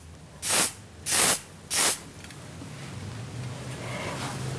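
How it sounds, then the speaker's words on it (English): Three short, sharp bursts of hairspray hissing from a nearby can of Theory Spray onto twisted hair, evenly spaced, then quiet room tone. "twisting that hair to the left, giving it a spray with Theory Spray"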